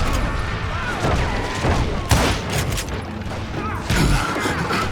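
Gunfire in the Western shooter Call of Juarez Gunslinger. Loud, irregular shots crack over a busy rumble of battle effects, with some clanks mixed in.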